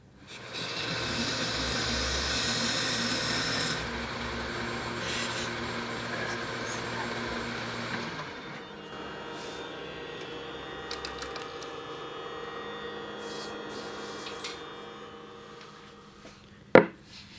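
A resin and wood piece with a glow-in-the-dark base spins on a lathe, giving a steady rasping, hissing cut that is loud for about eight seconds, then a quieter continuous whir, ending in a sharp knock.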